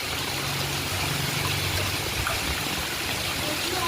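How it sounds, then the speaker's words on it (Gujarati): Heavy rain falls, with rainwater pouring off rooftops and down stairs in a residential yard. The rush of water is loud and unbroken, like a stream, and steady for several seconds. "આજે બધાની અગાસીમાંથી આવું પાણી આવે એવો વરસાદ આવે છે"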